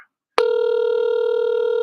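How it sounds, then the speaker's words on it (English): A telephone line gives a steady electronic tone during a call, starting abruptly after a brief chirp and holding continuously at a moderate level, with no voices. "Answer the phone."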